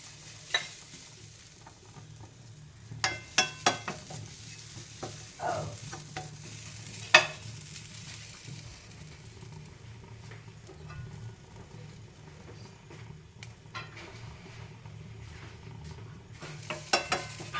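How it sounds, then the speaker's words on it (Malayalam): Steady sizzling of grated coconut lightly roasting in a hot pan, with occasional scraping and stirring clicks from a spatula, no talking. "ഇനി നമുക്ക് തേങ്ങയൊന്ന് ചെറുതായിട്ടൊന്ന് വറുത്തെടുക്കണേ പാനിലവിടെ നന്നായിട്ട് ചൂടായിട്ടിരിക്കുന്നുണ്ട് നമുക്ക് തേങ്ങ ഇട്ട് കൊടുത്തേക്കാം"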